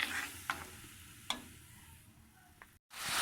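Chicken liver (kaleji) roasts in a pan with a soft, steady sizzle, broken by a few sharp clicks of a spoon scraping the metal, and the sound cuts out briefly near the end.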